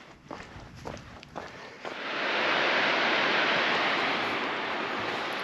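Water rushes below a mountain hiking trail. A few footsteps come first, then a steady, even roar swells in and holds at moderate loudness.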